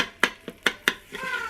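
A metal spoon stirs rice in the stainless inner pot of an Instant Pot, four sharp scraping clinks in a quick uneven rhythm, close by, ending in a soft hiss of frying.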